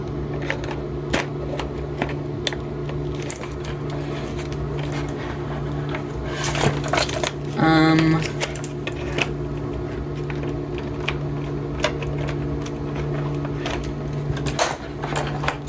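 Plastic rustling and light clicking as a zip tie is worked loose from under the axle of a 1:64 scale Caterpillar 420 XE toy backhoe loader inside its box, with a brief louder scraping burst midway, close and fairly quiet.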